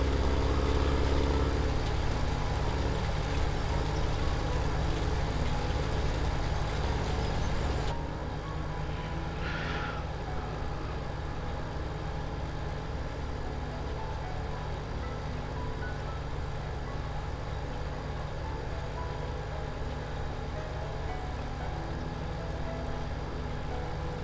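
Case Magnum tractor engine in Farming Simulator 17, a steady low diesel drone that drops in level after about eight seconds and then runs on evenly, with a faint higher whine briefly rising near the ten-second mark.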